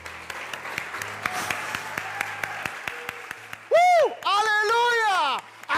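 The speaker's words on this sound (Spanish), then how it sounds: "Vamos a aplaudir todos juntos." A congregation in a Spanish-language church service claps together in a steady rhythm, with sharp individual claps over crowd noise, then loud shouts and cheers break in near the end.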